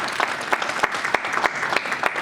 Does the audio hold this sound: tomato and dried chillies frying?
no